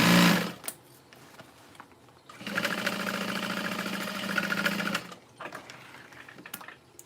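A sewing machine stitches a handbag lining closed, with a brief noise at the start, a quiet pause, then a steady rapid mechanical chatter for about two and a half seconds before stopping, followed by a few faint clicks and taps.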